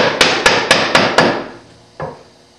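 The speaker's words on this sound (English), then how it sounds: "I'm going to tilt the chisel forward ever so slightly, just a degree or so." A mallet strikes a chisel into wood while hand-cutting dovetails: five sharp, evenly spaced knocks close by, each ringing briefly, then a pause and one softer final tap.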